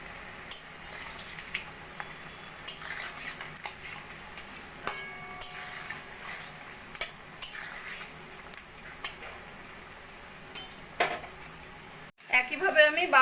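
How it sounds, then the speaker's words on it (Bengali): Churma laddu dough fries over a low flame in hot oil in a kadai, a soft steady sizzle broken by frequent sharp clinks of a utensil against the pan, with a louder burst of noise near the end. "এবার এইগুলো আমি ভেজে নেব একদম লো ফ্লেমে, সোনালি করে ভেজে নেব।"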